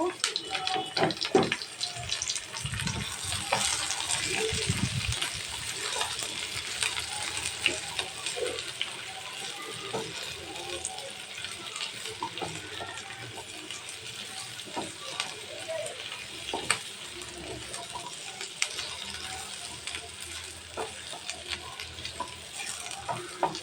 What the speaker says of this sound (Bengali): এখন পটলটা আলুটা একসাথে দিয়ে একটু ভেজে নেব।